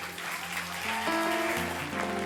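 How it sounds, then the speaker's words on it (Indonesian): A church audience applauds at an anniversary service, steady clapping running the full couple of seconds beneath sustained musical tones. "berikan tepuk tangan buat kakak-kakak yang ada di sini."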